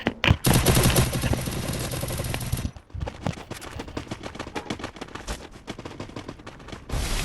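Rapid gunfire from the Free Fire battle-royale mobile game: dense, loud bursts of automatic shots and single cracks that run almost nonstop, with a short dip in the middle before the firing resumes.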